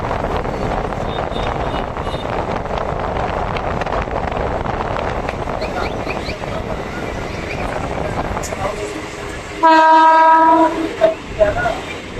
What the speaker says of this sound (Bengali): এখন আমাদের ট্রেন এসে প্রবেশ করছে জগদ্দল স্টেশনে 1 নম্বর প্ল্যাটফর্মে।